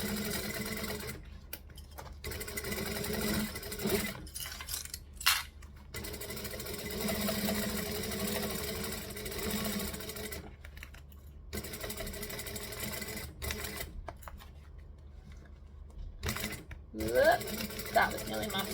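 A sewing machine stitches fabric in steady runs of rapid mechanical whirring, broken by short pauses as the work is adjusted, moderately quiet and close.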